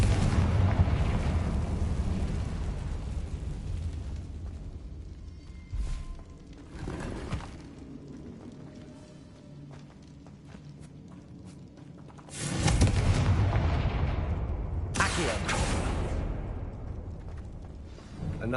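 Fiery Confringo spell blasts in the video game Hogwarts Legacy, deep rumbling explosions with loud bursts early and again near the end, separated by a quieter rumbling stretch.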